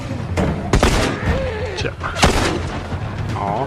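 Gunfire in the video game The Last of Us: a few sharp, loud shots crack out at irregular intervals over a busy game soundscape, with a voice talking at times.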